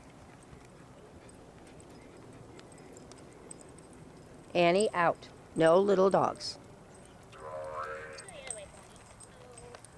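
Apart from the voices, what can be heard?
horses galloping in the field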